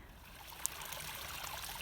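Clear spring water runs in a forest, a soft continuous trickle and babble from a small stream, quiet, steady and with no talking.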